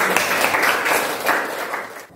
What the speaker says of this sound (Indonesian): Setelah itu mari kita tepuk tangan,